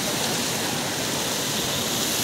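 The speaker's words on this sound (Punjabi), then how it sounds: "ਇੱਥੋਂ ਸਟਾਰਟ ਹੁੰਦਾ ਝਰਨਾ ਬਣਦਾ" A waterfall near Mcleodganj in Himachal pours with a steady, dense roar of rushing water, close and continuous with no break or voices.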